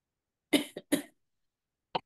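Three or four sharp coughs in quick succession from one person, then a short pause and a final brief cough, close and fairly loud with no talking.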